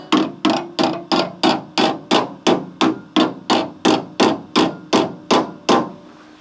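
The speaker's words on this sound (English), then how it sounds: "Now what I'm going to do is sort of dress that with a hammer to get it into the correct shape." Sixteen evenly spaced, ringing hammer blows dress a welded metal edge on a Porsche 928 body panel, each strike close and sharp with a short decay, over a faint steady hum.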